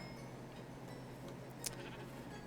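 Sheep bleating in modded Minecraft, a single bleat over steady game background noise, fairly quiet and brief.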